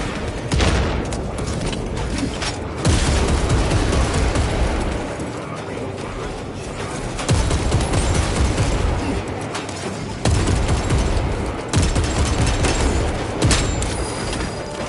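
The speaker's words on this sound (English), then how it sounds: "Throwing shock grenade." Shock grenade blasts and bursts of gunfire in the Space Marine 2 video game, a dense loud barrage of booms and shots repeating throughout with game voices calling out over the action.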